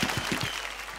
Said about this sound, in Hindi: ताली जोर से मारो पिताजी